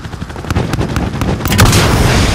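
Rapid gunfire and heavy artillery-style blasts from an air strike in Call of Duty: Modern Warfare (2019), a dense run of sharp shots building into louder booming impacts with no talk.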